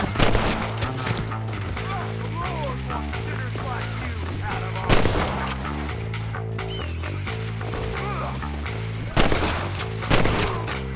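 Gunshots ring out in Red Dead Redemption, loud sharp blasts at about 1, 5, 9 and 10.5 seconds over a steady, pulsing musical score.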